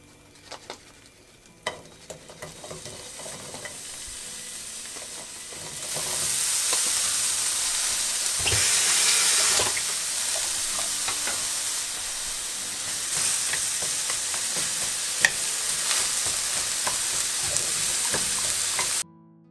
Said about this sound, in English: I'm going to get some color on these onions